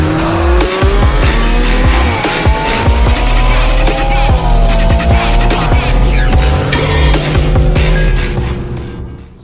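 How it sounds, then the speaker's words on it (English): A BMW M4 Stage 2 and a 700 HP Mitsubishi Lancer Evolution X race side by side, their engines roaring loudly through rising revs and gear changes with tire squeal, close and sustained before easing off at the end. "Guys, now we have M4 Stage 2 race against Evo."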